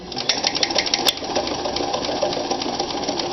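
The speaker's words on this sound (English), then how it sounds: "It's going to stitch the top bar tack and the downward leg." A Morse 4300 sewing machine stitching the top bar tack and leg of a two-step buttonhole hums in a fast, steady needle rhythm, close and continuous, with one brief sharp click early on.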